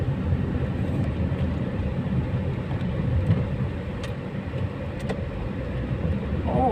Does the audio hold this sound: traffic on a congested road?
yes